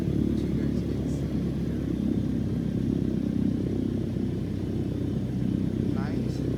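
Steady piston aircraft engine idling at about 2000 RPM in Microsoft Flight Simulator 2020, a continuous loud low drone with slight rhythmic clatter, running throughout without talk.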